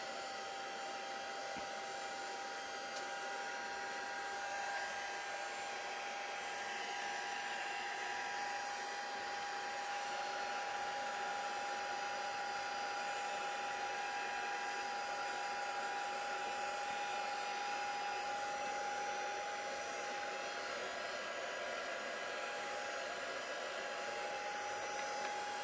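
A hair dryer blows steadily on an inky painted background, a loud close continuous whir with a constant tone that holds unbroken for the whole stretch.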